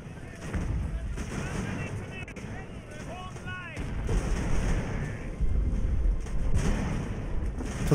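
Mortar and artillery fire rumbles in the naval battle game Ultimate Admiral: Age of Sail, with dull booms over steady wind and sea noise and someone talking at times.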